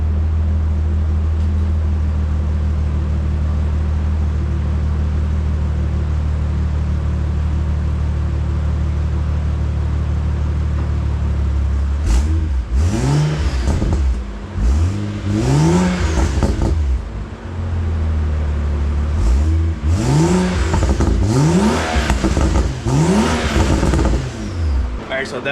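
A BMW car engine with a new exhaust idles with a low steady rumble, then revs several times in rising and falling bursts, loud and close.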